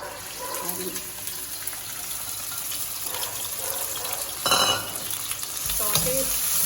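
Mixed vegetables sauté in hot olive oil for pasta, giving a steady close sizzle with occasional stirring scrapes and clatter in the pan.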